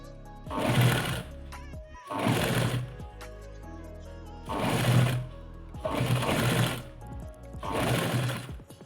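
A sewing machine stitches lace onto cloth around a neckline in five sustained runs of rapid mechanical whirring and clatter, with short pauses between them, close and loud.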